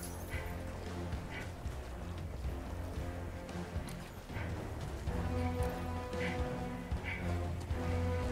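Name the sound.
storm in a video game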